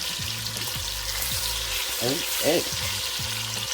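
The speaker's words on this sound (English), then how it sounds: "You're not cooking it, you're just lightly browning it." Chicken, shrimp and andouille sausage with garlic seasoning sizzle steadily as they lightly brown in a pan, with stirring scrapes and a brief spoken word over the frying.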